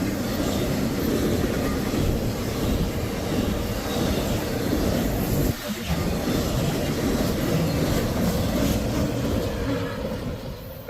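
A short Norfolk Southern freight train rumbles past nearby in a steady, broad roar with clattering wheel noise, briefly dipping midway before continuing; no voices.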